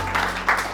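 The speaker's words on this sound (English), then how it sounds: "let's clap it up for Jed-Lee real quick" An audience claps briefly for an artist at a talk, a short, soft patter with two slightly louder swells over a steady background hum.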